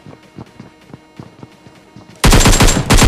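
Gunfire rings out in a shooter video game: scattered single shots and light taps give way to a sudden, loud sustained burst of rapid automatic fire that continues to the end.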